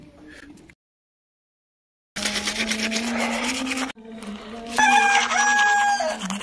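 A rooster crows loudly nearby on a cold morning after a brief silence, its long harmonic call standing out over a steady background hum.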